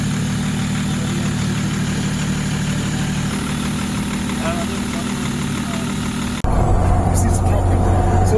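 Nissan Patrol M57 engine pulling uphill under acceleration, a steady loud drone heard from inside the vehicle with a sudden shift in tone near the end; a voice speaks quietly underneath.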